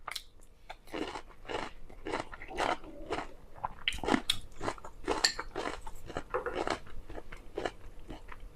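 Crunchy homemade Thai pickled vegetables, still not sour, chewed up close with a steady run of loud, crisp bites and crunches and no talking.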